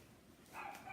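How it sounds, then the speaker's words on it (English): A dog barks faintly in the distance, a short burst of yips that rises briefly out of quiet background noise. "Sorry about that dog barking."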